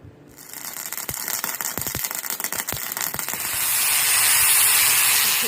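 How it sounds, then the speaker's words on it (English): A welding torch worked outdoors in winter gives sharp crackling pops and rattles over a rising hiss, then settles into a loud steady hiss, close by with no talking. "so we got the torch going here"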